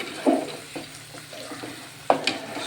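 Food frying in a pan for a chicken dish gets a light stir, with soft scraping strokes and a couple of sharper clinks over a low, steady sizzle.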